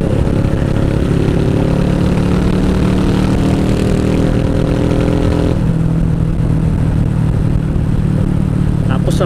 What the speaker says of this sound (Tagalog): So ngayon paparinig ko naman sa inyo yung tunog niya.